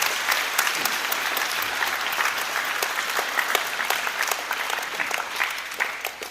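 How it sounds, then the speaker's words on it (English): At a Veterans Day program, an audience applauds the children for their songs and artwork, a steady crowd of clapping hands, moderately distant and even, with no voices. "So I'd like to give them a round of applause for what they did here today"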